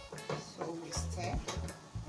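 Nigerian Afan soup being stirred in a pot, giving quiet scraping and light clinks of a spoon against the pot in short, uneven strokes.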